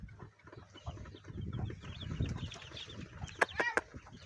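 Twenty-day-old Sonali chickens on a farm, several birds clucking and peeping in overlapping soft calls, with a few sharper, louder calls near the end.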